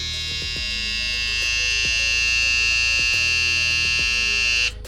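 A Kemei 1807 hair clipper fitted with a POP Master blade runs with a loud, steady electric buzz and a bright whine, plus faint regular ticking, dropping off abruptly at the end.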